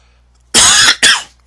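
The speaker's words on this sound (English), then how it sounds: "Excuse me for that cough." A man coughs twice, loud and close, two harsh bursts with a short gap between them.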